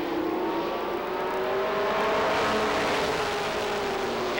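Pro Stock race cars roar at a speedway at the start of an 8-lap qualifier, a steady loud engine drone with rising pitch as the pack accelerates away.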